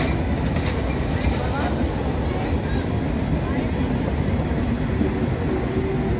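The Sundarban Express from Dhaka to Khulna pulls into Faridpur railway station on line 2 with a loud, continuous rumble of wheels and carriages close by.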